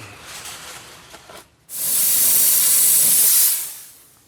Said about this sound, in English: steam it again,